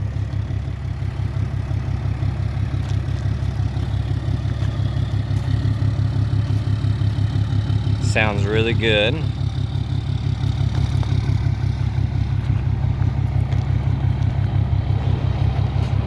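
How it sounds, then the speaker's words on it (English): Loud, steady diesel rumble from a Ram 2500 Laramie's Cummins turbo diesel with a deleted exhaust, idling close up with a low throbbing pulse and slight rises; a person speaks briefly partway through. "So I'll do a few little exhaust revs for you."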